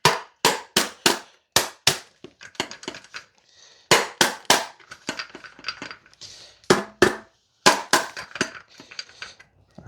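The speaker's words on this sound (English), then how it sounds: "And use your hammer." Metal hammer striking an engine part in quick series of sharp, ringing blows, grouped in bursts of three to five with short gaps, close and loud, no talk.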